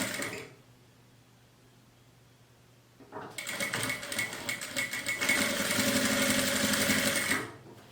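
A sewing machine stitches a straight seam close to the zipper of a handmade pouch. A low hum comes first, then a loud, steady whirring run of stitches takes up most of the clip before it stops near the end.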